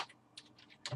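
Keystrokes on a computer keyboard, a few quick clicks spread over a second with a slightly louder cluster at the end, faint and close with no talking.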